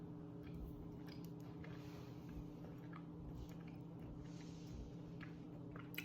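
Close biting and chewing of a dense, soft chocolate biscotti-like pastry, steady quiet mouth noises over a constant hum of background noise.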